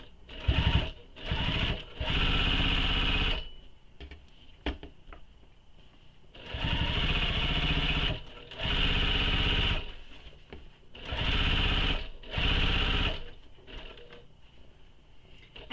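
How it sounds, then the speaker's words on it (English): Sewing machine back stitching a handbag, three runs of fast, rattling motor stitching, each a few seconds long and separated by quiet pauses with small clicks and handling noises, heard close with no talking. "I'm just back stitching down a little bit just to help me get past my O-ring"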